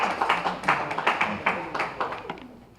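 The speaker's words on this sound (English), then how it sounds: "Give him a big round of applause, everybody" Sparse, moderately close hand claps from a small audience at a networking gathering at the Fullerton Alfa Romeo Maserati dealership, about a dozen separate claps in an uneven rhythm that thin out and fade over a few seconds.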